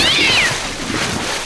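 A cat lets out a short meow over a brief rising-falling cry, near and fairly loud, with a low rumble of background noise after it.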